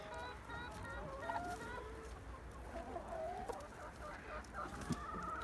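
Chickens in a coop cluck in a busy overlapping chorus, with short squawks and cackles scattered throughout over a steady low background hum.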